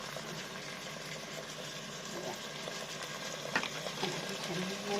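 Chicken apritada with garlic, onion, tomato and crushed pepper sautéing in a pan, a steady broadband sizzle with scraping stir strokes building slightly louder toward the end, close and continuous.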